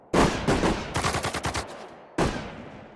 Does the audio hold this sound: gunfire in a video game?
yes